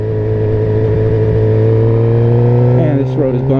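2013 Suzuki GSX-R 750 motorcycle engine cruising with a loud, steady mid-pitched drone, rising and shifting near the end as the bike rides over a bumpy road, a voice talking over it.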